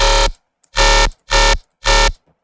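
Four loud, buzzing bursts of a sustained riser bass synthesized in Serum with a hyper effect, each about a quarter second long and separated by silence, close and harsh.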